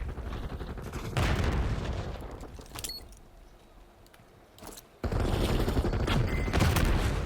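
Heavy rapid gunfire and grenade blasts in a Call of Duty Black Ops 6 multiplayer match, loud dense bursts that drop into a quieter lull before the shooting roars back.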